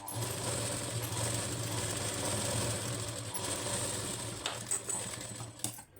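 A sewing machine runs steadily while stitching the neck of a blouse, its motor humming continuously with a fine mechanical rattle, slowing and stopping briefly near the end.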